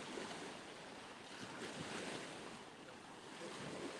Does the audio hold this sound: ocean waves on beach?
yes